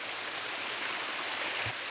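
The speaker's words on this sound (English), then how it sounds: "We have a waterfall, my friends." A small waterfall in Norway rushes in a continuous, even broadband roar, with steady splashing water noise and no clear breaks or voices.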